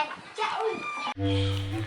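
Chicken clucking close by, with a burst of bird calls and mixed voices in the first second, then a steady, loud clucking tone that continues to the end.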